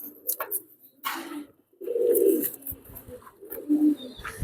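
High flying teddy pigeons coo close by in low, throaty bursts, with a longer coo in the middle and another near the end, amid light rustling and shuffling.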